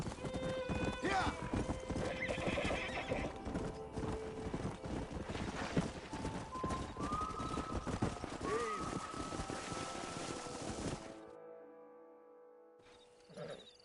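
Horses in the Red Dead video game neigh and whinny over rapid clip-clopping hooves, busy and close for most of the stretch before it thins out near the end.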